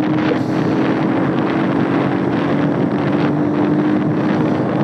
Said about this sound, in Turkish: Şu an dibinde kalan benzini sıyırıyor motor.